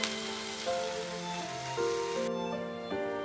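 Vegetables sautéing in a pan for vegetarian khichuri give a soft, continuous sizzle, largely masked by background music.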